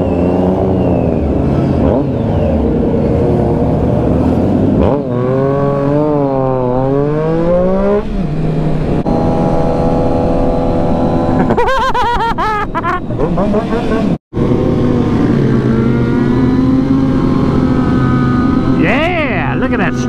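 Motorbikes rev and ride past on an outdoor track, their engines rising and falling in loud, sustained whines with pitch sweeps, under frequent excited talk from people nearby.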